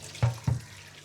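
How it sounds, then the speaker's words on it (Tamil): Water splashes over freshly caught fish, likely paaraikuttai or keeri fish, in a home kitchen. Two short, close pours come about a quarter second apart, each fading quickly. "தண்ணி ஊற்றி வச்சு"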